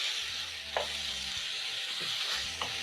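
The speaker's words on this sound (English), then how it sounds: "I'm going to saute my mushrooms for 10 minutes over medium flame" Mushrooms sizzle steadily in a hot pan over a medium flame, with a few light scrapes from stirring; no voices.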